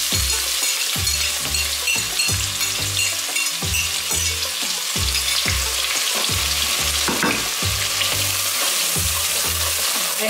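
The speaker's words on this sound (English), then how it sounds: "I have to fry this onion until it turns golden color." Onion fries in hot coconut oil for Kenyan Swahili beef pilau, a dense close sizzle broken by regular scraping stir strokes roughly every second, with no voices.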